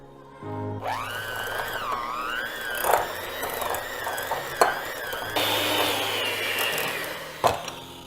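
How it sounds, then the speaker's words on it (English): An electric hand mixer whirs through a block of 8 ounces of soft cream cheese in a bowl for a dessert, its motor pitch rising and wavering steadily with occasional thumps as the beaters hit the bowl. "And put that in there, and we're gonna soften it with our hand mixer."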